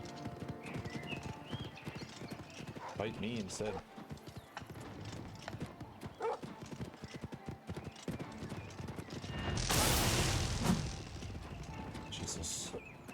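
Horse hooves clip-clopping in a video game, with a brief whinny, while someone talks over the action; a loud burst of noise flares up near the end.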